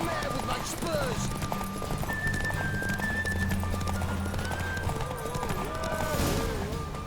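Rapid hoofbeats of a galloping horse in The Witcher 3: Wild Hunt drum on continuously, mixed with game ambience and a voice talking over the top.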